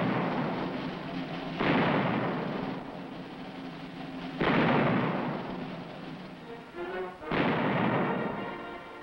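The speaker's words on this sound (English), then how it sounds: "A firing battery of 4 cannons" A firing battery of four cannons goes off at an army ceremony. Three heavy, booming blasts sound a few seconds apart, each leaving a long rolling rumble that fades slowly in the open air.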